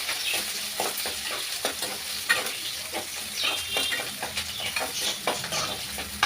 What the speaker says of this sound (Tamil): சின்ன வெங்காயம் போட்டு நல்லா வதக்கிக்கலாம்.